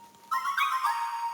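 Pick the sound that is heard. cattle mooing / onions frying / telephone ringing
telephone ringing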